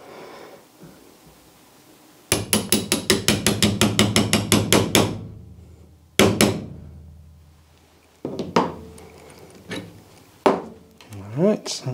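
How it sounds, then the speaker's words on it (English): A hammer knocks out a 2 mm pin: a rapid run of roughly twenty sharp metallic taps, followed by several separate heavier blows with short pauses between them, close and loud. "then I can knock out the pin"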